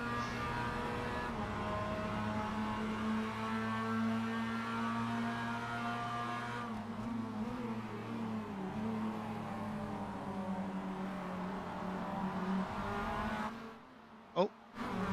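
Race car engine in the Rumble Racing video game, a steady loud droning hum with layered harmonics holding through an onboard lap, briefly dipping and shifting near the end with a short sharp rise.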